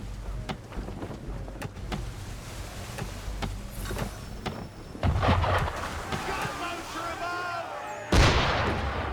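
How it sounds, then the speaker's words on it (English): Ship cannon fire in Assassin's Creed III, several deep booming blasts spread across the scene amid sea and rain-like noise, with raised voices heard between the shots. "Why is he shooting at us?"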